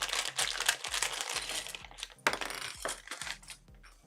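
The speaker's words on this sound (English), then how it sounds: "I'm just going to clip that in place for now since I'm not sewing it to the zipper yet" Fabric is clipped in place with sewing clips while making a tote, close-up crinkly handling with repeated sharp plastic clicks and snaps in an irregular rhythm, no talking.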